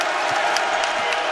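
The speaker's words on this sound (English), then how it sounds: "The crowd's coming alive here at Littlejohn." A basketball crowd at Littlejohn Coliseum roars in a steady wash of cheering and applause, loud and continuous for a brief moment.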